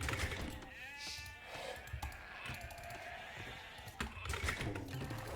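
Sheep bleat repeatedly in the Age of Empires video game on the Arabia map, mixed with steady keyboard and mouse clicking throughout.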